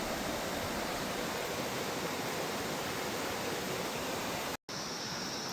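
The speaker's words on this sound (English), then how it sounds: "So Obi Obi Creek flowing really well." Obi Obi Creek flows strongly nearby, a loud, constant broadband rush of water that cuts out for an instant before resuming.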